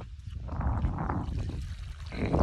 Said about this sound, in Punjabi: ਦੇਖੋ ਸਹੀ ਅਸਾਂ ਟਵੈਲ ਚਲਾ ਦਿੱਤੀ ਹੈ